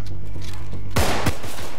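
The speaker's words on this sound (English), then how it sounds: "I shot him right in the head." Two sharp gunshots in the zombie survival video game Contagion, loud and close, cracking out one after another over a steady game background.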